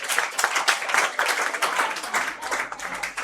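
Audience clapping at a Bihar Board 2026 student award ceremony, rising as a topper is called to the stage. Dense, steady applause fills the whole stretch with a faint low hum underneath.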